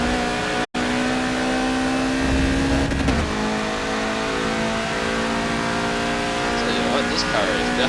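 A car's engine revs hard around a track in a racing game, a loud sustained droning note that climbs in pitch, breaks off briefly, then shifts and holds, with a short gap near the start and light talk underneath.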